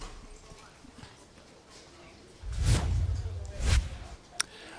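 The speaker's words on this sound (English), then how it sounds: "we get a good look at the horses as they come in" Horses walk through the paddock at Woodbine Mohawk Park racetrack, with a few soft hoof clops and a pair of louder thumps heard faintly against quiet background noise.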